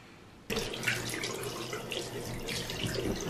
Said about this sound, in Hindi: मैं इसको धो लूंगी।